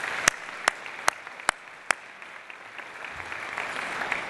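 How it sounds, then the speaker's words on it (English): Applause from the audience at the 2011 annual meeting of the Tri-Cities Visitor and Convention Bureau, a steady wash of clapping with a few sharp louder claps standing out near the start. "How about a round of applause for our two folks here?"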